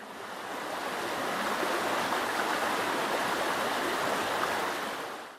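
Water rushes in a steady, broad hiss like a stream or cascade, fading in at the start and holding an even, enveloping roar before tapering off, with no voices.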